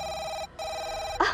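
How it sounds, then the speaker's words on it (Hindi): A telephone bell rings in a home, two loud bursts of ringing split by a short pause, then a sharp rustle or knock as it stops. "मुबारकी के फोन आने लगे"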